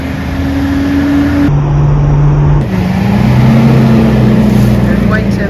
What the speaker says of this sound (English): Here comes the garbage truck.